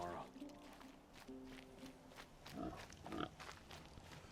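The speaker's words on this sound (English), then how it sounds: "Is no one gonna mention this pig?" A pig in Horizon Zero Dawn grunts a few times, the low snorts breaking through a talking voice and game sounds, moderately loud and close.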